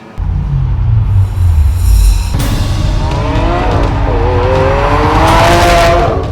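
A 2012 Lamborghini Aventador's rear-mounted 6.5-litre short-stroke V12 roars loudly and close, its pitch climbing in rising revs that build and hold to the end.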